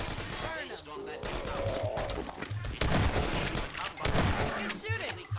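Rapid bursts of gunfire from a Combine firefight in Half-Life 2: Episode One, loud and sustained with sharp repeated shots, mixed with game effects and voices speaking over the action.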